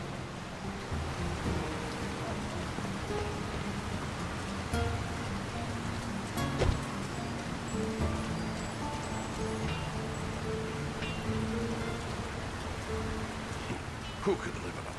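Steady rain patters in a town in The Lord of the Rings: War in the North, a soft constant hiss of drops under faint game ambience, with one brief louder knock partway through.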